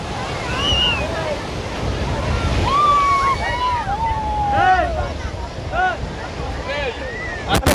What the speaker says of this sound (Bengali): ও কি হারে ঢেউ হচ্ছে দেখো।